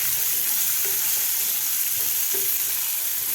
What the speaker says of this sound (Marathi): साधारण 2 ते 3 मिनिट आपल्याला मीडियम गॅसवर हे मटार फ्राय करून घ्यायचं आहे